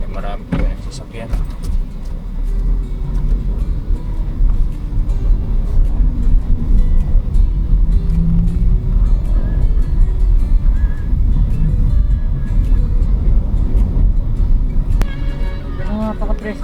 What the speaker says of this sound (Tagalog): Marami po yung sasakyan.